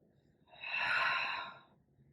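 A single deep inhale through the nose during a Pilates spinal twist, swelling and fading over about a second, close and alone with no talking.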